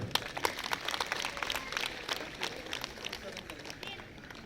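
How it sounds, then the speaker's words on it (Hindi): Applause from an audience at a Brahma Kumaris golden and pearl jubilee gathering, a dense patter of many hands clapping steadily at moderate volume, with some voices mixed in. "अपने लिए भी एक बार जोरदार तालियां बजाओ।"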